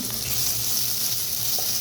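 A paste of ginger, garlic, onion and cumin sizzles in a pan, a dense, loud, continuous frying hiss with faint stirring and no voice.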